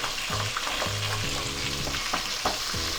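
Black pomfret fish frying in a pan with oil, loud steady sizzle and crackle throughout, with low scraping thumps as the fish is handled and turned partway through.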